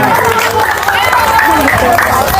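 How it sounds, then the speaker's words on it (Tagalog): An audience claps and cheers for a young viral singer at a live event, with dense, loud applause and crowd noise running throughout, and voices mixed into the roar. "Palakpakan nyo po! Palakpak!"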